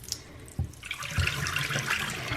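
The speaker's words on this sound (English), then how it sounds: "you're gonna take a big jug of hot boiling water and you're gonna dump it down your drain" A big jug of hot boiling water dumped down a kitchen or bathroom sink drain, starting as faint trickling and a few splashes, then swelling into a steady rushing gush of water close by, with no talk.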